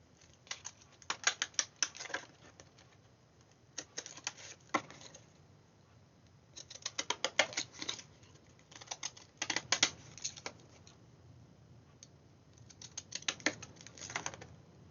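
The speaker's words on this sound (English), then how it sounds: "I'm going to take my fancy scissors" Bursts of crisp snipping and rustling paper as scissors cut in short runs, separated by quiet pauses, close by.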